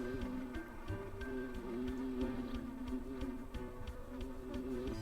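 A buzzing bee in a video game drones on steadily with a thin, wavering hum that stays close and even, layered over game sound with regular soft pulses throughout.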